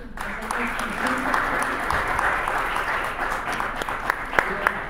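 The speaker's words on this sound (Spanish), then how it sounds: "Un aplauso para Manuel." An audience at a literary talk gives a warm round of applause, steady clapping throughout with voices mixed underneath.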